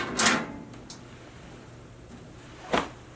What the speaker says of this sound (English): I'm gonna go look in this top drawer here, see if there's a key.